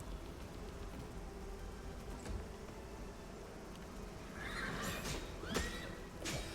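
Horses neigh and whinny in the fantasy role-playing video game Pathfinder: Wrath of the Righteous, two or three sharp whinnies late on over soft clip-clop and low background noise, fairly faint overall.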